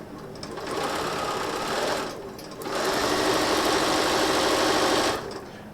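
A sewing machine runs in two long bursts joining fabric strip sets for an Urban Stix quilt, broken by a short pause, its steady whirring motor close and loud.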